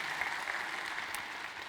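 Church congregation applauding in welcome during a Sunday service: a short burst of steady, moderately loud clapping from a gathered crowd, even throughout its brief length.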